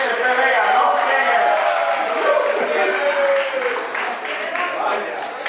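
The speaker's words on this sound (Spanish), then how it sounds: "Un aplauso, que venga Otto." Applause from an audience at a health event in a Spanish-speaking setting, a steady wash of clapping with voices mixed in, moderately loud and fairly close throughout.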